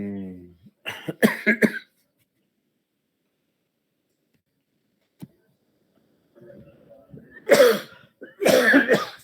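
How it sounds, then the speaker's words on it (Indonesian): A single short cough comes after a spell of near silence, with people talking before and after it, and faint ticks in between. "udah batuk"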